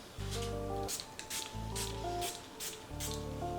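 Several short, quiet hisses of strong-hold hairspray are sprayed onto curly hair in quick succession, with a faint tonal background underneath.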